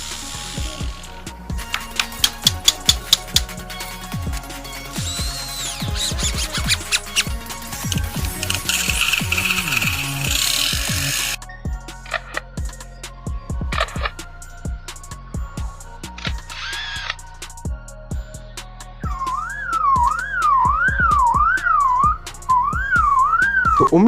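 A lyrebird sings a rapid, varied stream of mimicry: mechanical clicks and ratcheting taps, whistled tones and warbling, wavering whistles, loud and close, with no talking.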